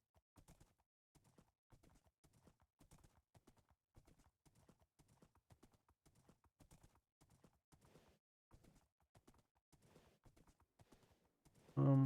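Horse hooves clip-clop steadily in Minecraft on the TerraFirmaGreg modpack while riding, a quiet even rhythm of repeated footfalls that ends in a short louder burst.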